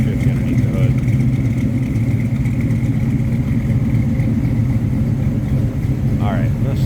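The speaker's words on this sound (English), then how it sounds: "Good sounding 350 underneath the hood." A 350 V8 under the hood of a 1936 Chevrolet Master Deluxe Coupe street rod idles with a loud, steady low rumble close by, while someone talks over it.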